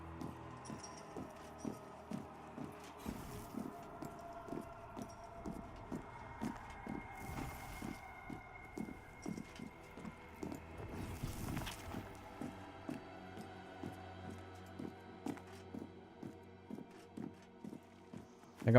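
Plate-armored footsteps from a character walking in Pantheon: Rise of the Fallen, a steady rhythmic clip-clop of regular steps with faint metallic jingle, continuing evenly throughout under quiet game ambience.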